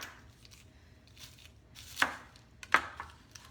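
A knife cuts up a medium onion on a board for cornbread dressing, with two loud, distinct chops standing out over quieter slicing taps and light background hum.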